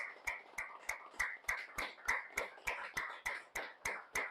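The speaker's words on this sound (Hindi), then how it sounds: "एक बार जोरदार तालियां आप सब लोगों के लिए।" Audience at a seminar clapping in rhythm, a steady series of about fifteen sharp, evenly spaced claps, each a crisp burst with a short fading tail, fairly close and without talk.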